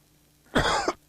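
A single harsh cough from a man, close and loud, lasting under half a second and rising out of a quiet room with no talking around it.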